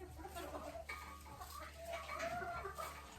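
Black hen on her roost inside a homestead shed, clucking softly in a series of short, faint, uneven calls close by, with no talk over them.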